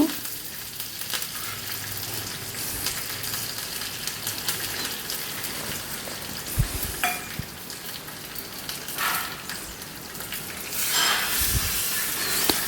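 Curry leaves and mustard seeds, with dried red chillies, crackle and sizzle in hot coconut oil while a simple curry of jackfruit seeds and mango is finished. A steady close frying hiss runs throughout, with sharper sputtering bursts near the middle and toward the end.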